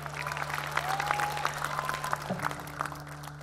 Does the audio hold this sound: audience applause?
yes